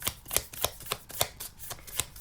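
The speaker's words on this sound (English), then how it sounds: "let's do one more shuffle." Tarot cards riffle and snap in a steady series of quick shuffles, each burst crisp and close, repeating about every quarter second with no voices.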